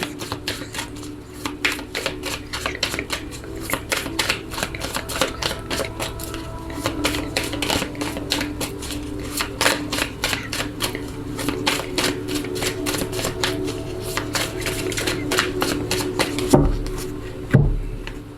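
Tarot cards shuffled and cut by hand, a steady run of dense papery riffles and flicks close by, with a couple of sharper taps near the end, no speech.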